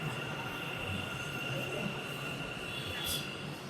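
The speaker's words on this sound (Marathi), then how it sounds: "आता इकडच्या लाईन मेट्रो आलेली चला बसतो" A metro train in Bangalore rumbles at a platform with steady mechanical hum and a faint high wheel squeal, fairly quiet, with indistinct voices in the background.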